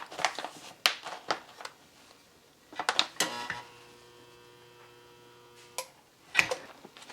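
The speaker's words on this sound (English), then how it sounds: "And then we're just going to heat seal these closed." An electric heat sealer closes food storage bags holding oxygen absorbers, giving a steady buzzing hum for a couple of seconds. Quiet clicks and bag handling come before and after it.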